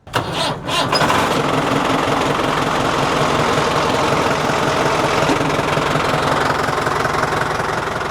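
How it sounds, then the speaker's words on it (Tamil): A tractor engine on a borewell drilling rig turns over and catches, then settles into a loud, steady, rough mechanical roar with a knocking rhythm, close and continuous for the rest of the stretch. "டிராக்டர் ரேஸ் ஆகுறது"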